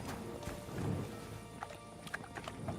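Horse hooves clip-clopping in the medieval video game Kingdom Come: Deliverance 2, a quiet running rhythm under a low background wash, with a few sharper hoof strikes toward the end.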